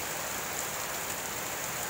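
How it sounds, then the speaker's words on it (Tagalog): Heavy rain pouring down in Cebu during a week-long wet spell, a dense, unbroken hiss of drops striking surfaces close by, steady and loud for the whole span. "Malakas na ulan po"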